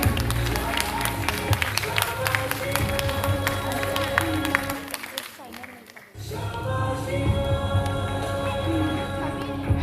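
An audience at a youth achievement awards ceremony claps steadily, with dense applause that fades briefly and then swells again, mixed with background music and a voice speaking over it.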